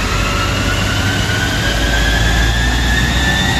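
A tuned car engine, either a BMW E91 320d or an Audi Q5 2.0, runs at steady load on a dynamometer with a loud, continuous broadband roar and droning whine, alone and without talk.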